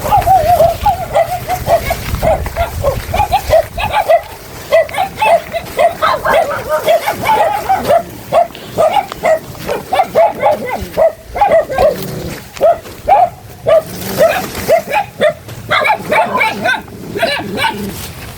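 Dogs in a rural yard bark repeatedly in an insistent, rhythmic run, close and loud, with people talking now and then amid the barking.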